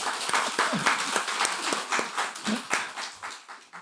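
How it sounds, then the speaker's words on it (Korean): Scattered clapping from a church congregation during a Sunday service, congratulating an expectant couple; individual claps stand out in an uneven, moderately loud patter with a few voices mixed in. "이제 축하의 박수 한번 하는 거예요."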